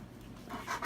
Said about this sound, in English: You're howling back here.